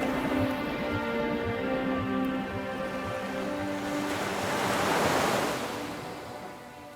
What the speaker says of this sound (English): Soft magenta waves splash at her feet and palm trees sway in the breeze.